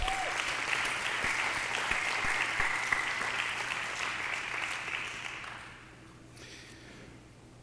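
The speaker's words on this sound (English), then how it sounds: "Let's have another round of applause." Another round of audience applause at the Kentucky Aviation Hall of Fame ceremony, a full crowd clapping steadily and fairly loudly, then thinning and fading out toward the end into near quiet.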